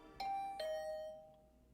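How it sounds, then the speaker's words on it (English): A two-tone ding-dong doorbell rings in a video game, two chimes with a bright ringing tail that fades out, heard clearly on its own without speech. "I was praying hard as I rang her doorbell"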